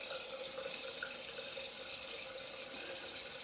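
A tap runs in a steady, continuous stream as shaving lather is rinsed off after an Antica Barberia Original Citrus shave, a constant hiss and splash, near and fairly quiet, with no talking.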